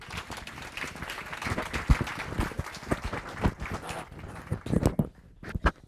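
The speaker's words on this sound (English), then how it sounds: "Let's give it Reverend Linda another round of applause." Audience applause at a 100-plus-year-old birthday celebration, a steady patter of clapping with sharp individual claps standing out, thinning and becoming sparser toward the end.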